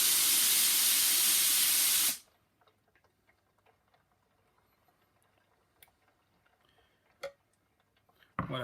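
A Lux Neptune steam cleaner builds pressure with a loud, steady hiss that stops abruptly when its pressure switch cuts off, leaving near silence broken by a few faint clicks.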